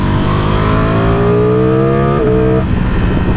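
Lamborghini Streetfighter motorcycle on its stock exhaust, the engine note coming mostly from under the tank: a steady, loud rumbling idle with rising revs toward the end, then a drop back.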